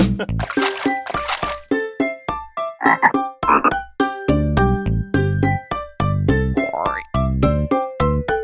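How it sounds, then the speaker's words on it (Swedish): Cartoon frog croaks rise in a cheerful children's song about little frogs, with short rhythmic croaking notes bouncing along over sung music, loud and close throughout. "Sen fanns det tre små grodor kvar."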